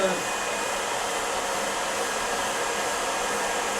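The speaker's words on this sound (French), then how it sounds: "La voisine qui voit son sèche-cheveux." A hair dryer blows with a steady, even whoosh and a faint whine, running continuously without pause at moderate volume, in an apartment.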